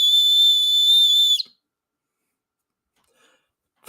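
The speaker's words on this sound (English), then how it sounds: "This is the cyber whistle." A cyber whistle sounds as one loud, shrill sustained blast of about a second and a half, then cuts off into near silence broken only by a faint tick and a small click.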